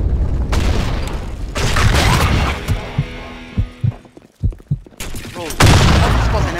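A grenade explosion in the shooter game Blackshot, heavy booms and bursts of gunfire, then a quieter stretch of thumps before another loud blast, with voices talking.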